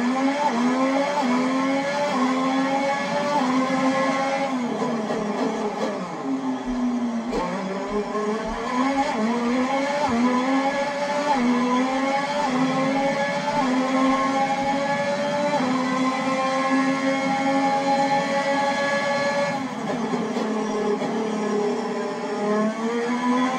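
Engine of a Ferrari Formula 1 car lapping the Bahrain circuit in the F1 2022 video game, a loud, continuous high-revving whine that rises through the gears and drops sharply on downshifts, with occasional tyre squeal.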